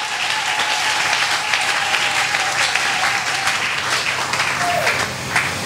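A church congregation applauds steadily, a dense continuous wash of clapping sustained throughout, with a faint voice briefly rising above it.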